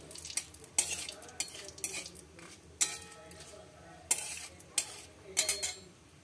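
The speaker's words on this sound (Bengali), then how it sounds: "তেজপাতা ফোড়ন দিলাম।" Bay leaf tempering in hot oil for a pumpkin curry, a soft sizzle beneath repeated clinks and scrapes of a spoon stirring in the pan, close and fairly quiet.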